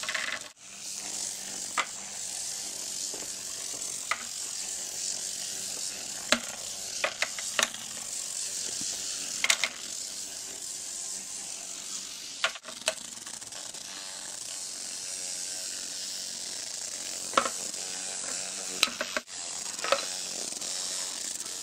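A homemade BristleBot, a toothbrush head driven by a small battery-powered vibrating motor, gives off a steady faint buzzing rattle with scattered clicks and taps as it skitters across a surface, with no talk.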